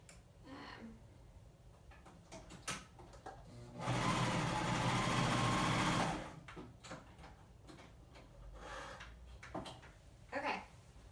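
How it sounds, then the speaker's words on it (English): A cover stitch sewing machine runs steadily across rayon spandex for about two seconds, a loud close whirring burst set between quieter handling clicks and rustles. "I run it through my cover stitch to see how it does"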